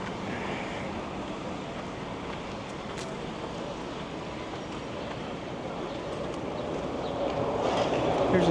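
A new Boston Orange Line subway train rumbles by along Southwest Corridor Park with steady broadband noise, swelling louder toward the end as it draws nearer.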